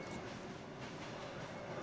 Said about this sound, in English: I can't hear you because of the trains going past